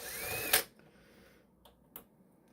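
A hot air rework station, used for a PS5 HDMI port repair, blows a loud, breathy airflow hiss that cuts off after about half a second. A couple of faint clicks follow in a quiet room.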